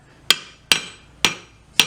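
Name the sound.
heavy hammer pounding silver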